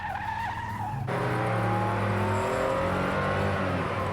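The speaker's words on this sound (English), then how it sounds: "I just love the sound of this motor." A Porsche sports car engine revs hard as the rear end slides in oversteer, tires skidding with a loud, sustained roar that jumps sharply at the start and holds steady, with no talking.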